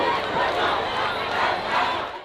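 Protest crowd at a march for Nael, mass voices chanting and shouting together in a dense, steady roar that swells and dips slightly.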